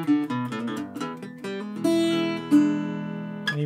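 Guitar rips through a fast, demanding blues melody run, quick cascading single notes giving way to a few longer sustained bends, played solo and clearly up close.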